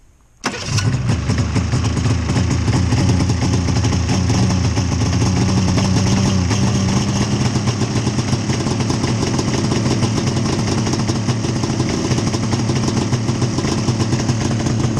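An engine cranks and fires up abruptly after a moment of silence, then settles into a steady, loud, rumbling idle that continues throughout.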